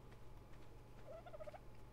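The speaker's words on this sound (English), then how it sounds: "I hear a chicken." A single short fowl call in the GunsmokeRP game, a quick wavering gobble-like cluck rising briefly midway over a low steady hum, faint and alone.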